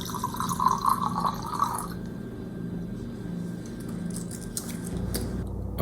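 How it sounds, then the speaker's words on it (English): Añejo tequila from a freshly uncorked bottle trickles into a glass, a close, brief pour with dripping splashes that fade into a quieter room after about two seconds. "Let's go ahead and pour this out."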